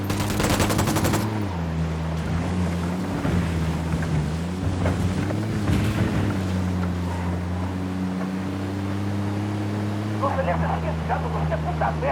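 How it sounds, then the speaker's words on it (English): Gunfire in a military shooter game: rapid bursts of automatic fire crackle over a loud, steady engine drone from a boat, while voices talk throughout and the shots come in several short clusters. "I'm opening fire on these shitheads."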